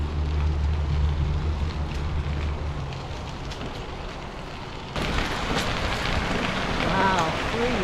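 Water roars out of three giant pipes beside a limestone rail trail, a dense, steady broadband rush with a rumble of machinery underneath at first, and a voice briefly heard near the end.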